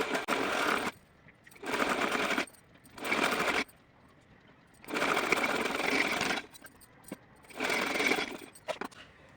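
A sewing machine runs in five bursts, stitching the lower edge of a small summer dress with a frill, each burst lasting about a second with short quiet pauses between, close and steady with no talking.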